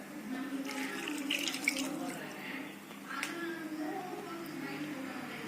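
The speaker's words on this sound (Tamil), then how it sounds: "இப்போது தேவையான அளவு கறி வேகிற அளவுக்கு தண்ணி ஊற்றிக்கலாம்" Water is poured steadily into a pot of pork curry being cooked, a continuous splashing gush up close with slight changes in flow.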